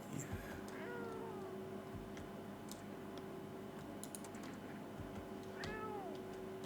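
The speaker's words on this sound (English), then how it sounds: "I picked up the cat." A cat meows twice inside a video game, short rising-falling calls heard near the start and again toward the end over a faint steady hum, with soft keyboard typing clicks scattered throughout.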